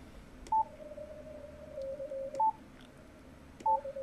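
A Morse CW tone on a ham radio receiver, tuned to a low pitch with the manual notch set narrow, sounds as a steady low hum with three short, louder beeps spaced about two seconds apart over faint band noise.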